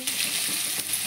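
Chopped garlic fries in a pan with ginger and five-spice seeds, giving a brief, steady, loud hiss of hot oil up close with a couple of soft scraping touches.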